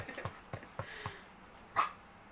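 A household dog barks a few times in the background, soft and somewhat distant, with a short run of quiet woofs followed by one sharper bark near the end.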